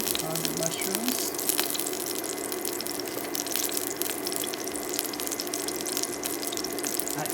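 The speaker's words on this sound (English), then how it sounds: "I added water to the mushrooms. Just rinse them off and just rubbing the debris off of the mushrooms." Mushrooms rinsed under running kitchen tap water, a steady loud gushing hiss of water continuing throughout with faint handling noises beneath.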